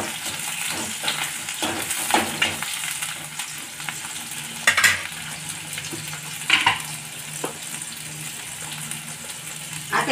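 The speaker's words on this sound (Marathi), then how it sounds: "आता मी यामध्ये कांदे, मिरची आणि कढीपत्ता टाकलेला आहे." Onions, green chilies and curry leaves frying in hot oil, a continuous close sizzle with scattered crackles and louder bursts as the pan is stirred, with no talk over it.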